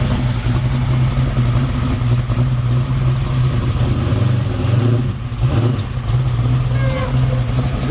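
Small-block Buick Regal street car with its engine running steadily and loud close by, a deep continuous rumble holding throughout with no clear revs, and voices talking beneath it.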